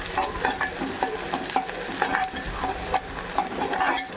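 Ingredients for Andhra-style spicy mutton curry fry in hot oil while being stirred, giving steady close sizzling broken by repeated scraping strokes of the spoon against the pan.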